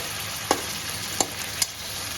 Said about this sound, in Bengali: গরম তেলের এবার এর মধ্যে টমেটো আর কাঁচা লঙ্কাও দিয়ে দেবো এবার এটা একটু কষবে